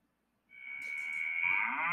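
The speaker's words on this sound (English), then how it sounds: "Cow moo." A cow mooing sound effect: one long, loud, drawn-out moo rising in pitch and holding to the end, alone with no talk.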